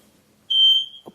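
A single shrill electronic alarm beep rings out, sustained for about a third of a second, followed by a brief faint voice.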